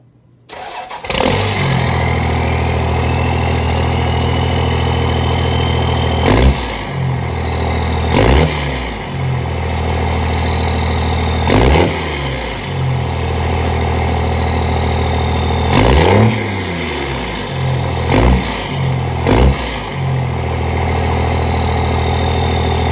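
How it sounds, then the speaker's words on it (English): A car engine running through a 4-inch straight exhaust pipe with no tip starts, then idles with a loud, deep rumble close by, broken by several sharp revs that rise and fall back to idle. "we're going to see what it sounds like with just a 4-inch straight pipe"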